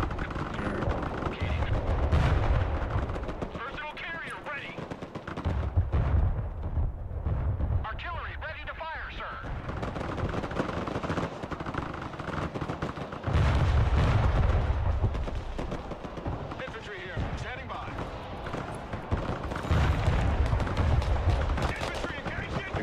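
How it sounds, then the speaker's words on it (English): MLRS rocket artillery fires in the war game Broken Arrow, heavy booming salvos arriving in separate bursts every few seconds, loud and close, with a voice talking between the volleys. "I'm gonna open up with MLRS"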